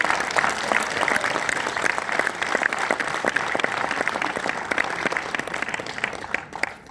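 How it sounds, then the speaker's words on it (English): Sustained, dense applause from a seated audience at a direct-selling leadership camp honouring the women present, a steady wash of many hands clapping without a break. "give a round of applause to all the women sitting here"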